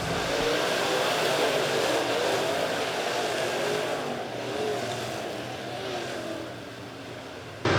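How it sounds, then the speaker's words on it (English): Late model race cars roar around a dirt track after the green flag, their engines revving loudly in a continuous, swelling drone from the pack at middle distance, with no speech heard. "Green flag's out. We're racing."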